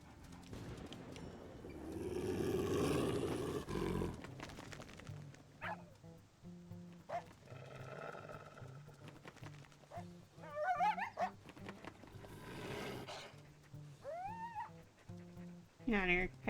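Coyotes in WolfQuest yip, whine and snarl in short, high, wavering cries and growls, heard at moderate distance amid wind-like ambient noise.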